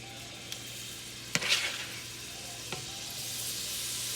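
Shrimp frying in a pan on a stove for Cajun fettuccine, a steady close hiss of sizzling oil with a few sharp clicks and a brief louder crackle as they are moved.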